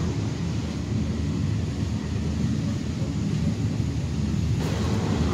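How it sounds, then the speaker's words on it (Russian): Overhead airplane over the Tuscan coast near Castiglioncello, Italy: a steady, broad low rumble that holds evenly throughout the few seconds. "Самолет полетел."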